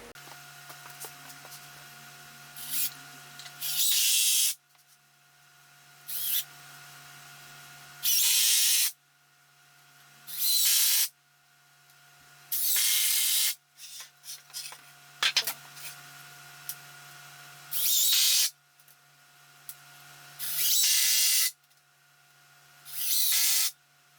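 Cordless power drill driving 2.5-inch screws into the bottom boards of a low-cost compost bin, in repeated short whirring bursts of a few seconds each, separated by quiet pauses with small handling knocks.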